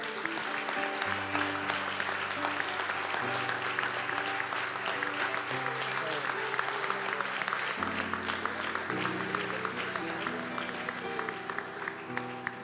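A church congregation claps together in continuous applause lasting several seconds, dense and steady, with a sustained chord of music playing beneath the clapping.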